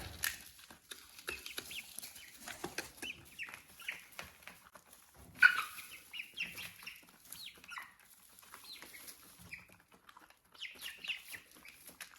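Broody hen and her chicks clucking softly inside a chicken coop, scattered chirps and low clucks at close range, with a louder burst partway through and quieter rustling between calls.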